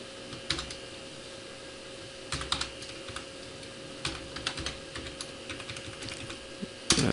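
Someone types on a computer keyboard at close range, tapping keys in short scattered bursts between pauses and ending on a louder press of the enter key, with a faint steady electrical hum underneath. Nobody speaks.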